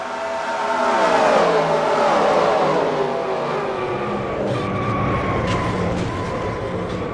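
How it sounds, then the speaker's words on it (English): Race cars in a final-lap wreck at the Daytona 500, with a continuous loud roar of engines and scraping that swells early and then holds steady, with no talking. "scary wreck in the Daytona 500 on the final lap back in 2020"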